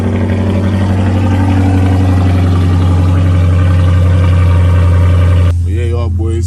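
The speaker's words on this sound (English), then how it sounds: "Yeah, look, cold start." A Dodge Charger SRT with its catalytic converter deleted fires up from a cold start, its engine settling into a loud, deep, steady idle close by, before a voice speaks briefly over it near the end.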